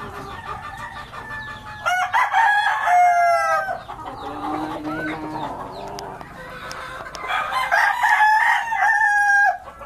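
Backyard chickens clucking close by, with a rooster crowing twice in drawn-out calls and faint background murmur between them.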